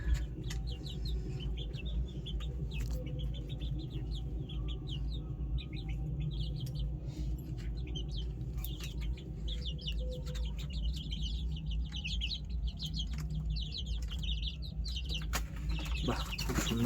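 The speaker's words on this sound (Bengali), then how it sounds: "বাহ, খুব সুন্দর মুরগি হয়েছে," Young desi hens and chicks in a coop give soft, repeated clucks and high chirps, a busy close chorus over a low steady hum, with no voices.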